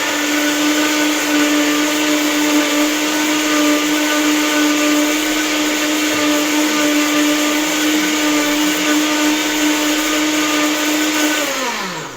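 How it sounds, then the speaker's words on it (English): An electric blender whirs loudly and steadily, puréeing tomatoes until smooth, then winds down at the end with no talking. "I'll blend them to be very smooth."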